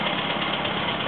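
A 1934 Morris 10 engine idles steadily, a continuous close mechanical rumble with slight knocking texture and no voices over it.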